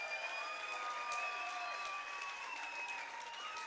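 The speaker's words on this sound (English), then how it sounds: "let's give both fighters a big round of applause." Applause for two fighters after a three-round MMA bout, a steady even wash of clapping from the arena crowd that holds at constant loudness throughout, with faint announcer tones underneath.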